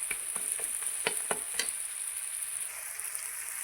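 Mixed vegetables of carrot, beans, potato and cauliflower hitting a hot pan, a bright steady sizzle with a few sharp clicks and stirring knocks near the start, fairly soft and close.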